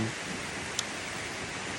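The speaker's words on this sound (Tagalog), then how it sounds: "ang lakas ng ulan" Heavy rain pours down on a farm in a dense, unbroken hiss, with one tiny click partway through and no talking.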